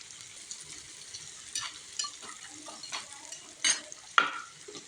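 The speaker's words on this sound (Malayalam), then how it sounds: "എന്നിട്ട് ഇത് നന്നായിട്ടൊന്ന് വഴറ്റാം" Garlic being sautéed in oil in a pan for bitter gourd pickle, a faint steady sizzle broken by several sharp scrapes and clinks of a spoon stirring against the pan, with no talk.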